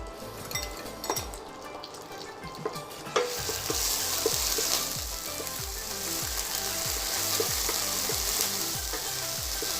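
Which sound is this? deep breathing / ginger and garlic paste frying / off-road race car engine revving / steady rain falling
ginger and garlic paste frying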